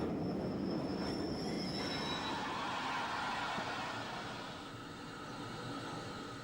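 A 1960s steam express train, the rerouted Pines Express, rolls past at a distance on the GWR line through Oxford, with a steady rumble, faint wheel squeal and a gradual fade as it moves away.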